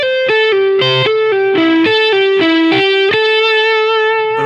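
Distorted electric guitar plays a blues rock riff slowly at half speed, a string of separate picked notes and pull-offs ending on a long sustained note, loud and close with chorus-like shimmer.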